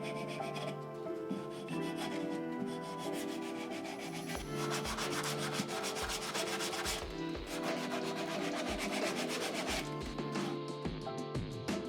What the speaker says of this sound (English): Lastly, it's good to do it manually with sandpaper.